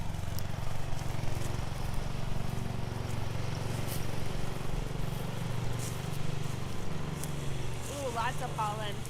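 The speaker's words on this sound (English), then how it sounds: "the lawnmower is going to be loud" A lawn mower drones loudly and continuously close by, a low steady engine hum that carries on for several seconds while people talk over it nearby.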